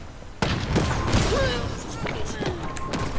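A sharp, heavy two-rocket launcher blast in Halo Infinite bursts in, followed by a busy mix of game effects, whooshes and muffled impacts, with voices talking underneath.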